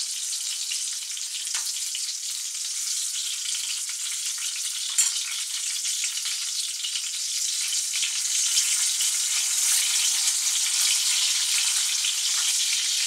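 Steady, close sizzling of zucchini frying in a hot pan for a sauté, a continuous crackle with occasional sharper pops, no voices.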